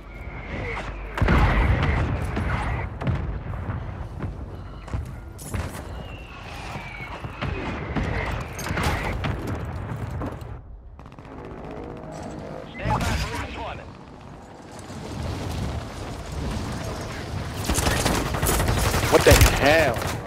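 Call of Duty battle with mortar strikes and gunfire: repeated sharp shots and heavier booms come in irregular bursts, with a loud cluster near the end, while people talk throughout.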